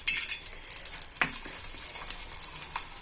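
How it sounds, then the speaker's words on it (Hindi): A veg burger tikki fries in oil on a tawa griddle, giving a soft, steady high sizzle with small pops and one sharper clink of a utensil. It sounds close, and no one speaks. "अब इसमें डालूंगी मैं थोड़ा सा ऑयल और अब डालते हैं तवे पे अपनी टिक्की"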